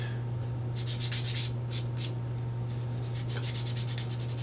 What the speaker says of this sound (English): we could sit here and sand forever